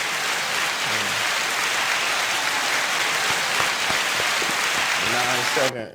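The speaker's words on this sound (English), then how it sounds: "9-second applause." Sustained applause from a crowd, steady and dense throughout, with a few voices calling out underneath before it cuts off at the end.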